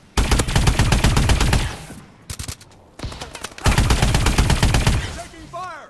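Loud, rapid automatic gunfire in Call of Duty Advanced Warfare rattles in dense bursts, breaks off for a moment, then resumes in another sustained burst, with a few faint electronic chirps near the end.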